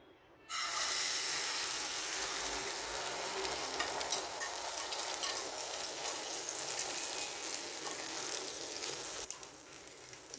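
Beaten egg poured into about a tablespoon of hot oil in a pan for a paratha omelette, breaking into a loud, steady close sizzle that starts abruptly and runs unbroken with no voices.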